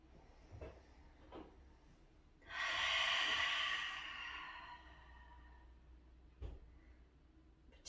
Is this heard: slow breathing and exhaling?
yes